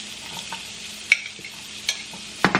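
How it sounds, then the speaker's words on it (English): Onions sizzle in a pan still holding salmon and shrimp juices, a low, even frying hiss under a few sharp utensil taps and scrapes, heard close with no voices. "I'm gonna throw in my onions"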